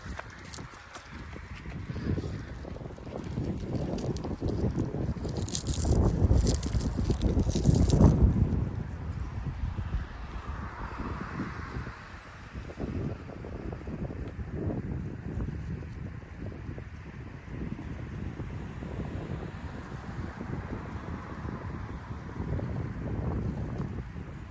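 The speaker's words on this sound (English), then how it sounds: "Probably just hear the wind blowing." Wind blowing around an outdoor London street, a steady broadband rush with low buffeting across the microphone, loud and continuous with a brief stronger gust midway.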